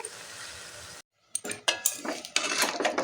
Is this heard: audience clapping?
no